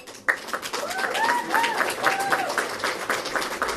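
An audience at a Crow Canyon Country Club gala dinner claps with steady, dense applause that fills the room, while a voice speaks over it.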